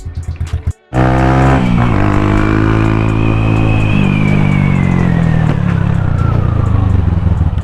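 A Champion 150cc motorcycle is started cold, with a few stuttering cranks, then the engine catches and revs up hard, its pitch climbing and slowly falling as the rev is held, loud and close.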